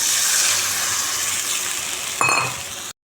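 Water poured into a pan of thinly sliced green chillies frying with salt and turmeric: a loud, steady hiss and sizzle throughout, with a brief burst and clink near the end before it cuts off.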